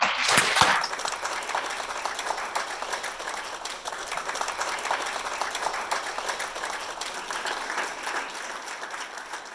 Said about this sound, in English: Let's give our proud 2021 graduates another round of applause,